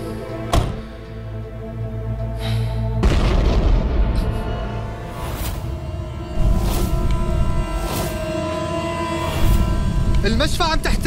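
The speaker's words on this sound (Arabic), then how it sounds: "المشفى عم تحترق، صار انفجار فوق" A deep explosion boom and heavy rumbling roar fill a burning hospital, with loud crashing bursts and voices shouting over the chaotic din.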